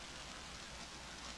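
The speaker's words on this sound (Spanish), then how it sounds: "es que está lloviendo" Steady rain falls in the survival video game Stranded Deep, a dense, even hiss that is loud and close and continues without a break through the short stretch.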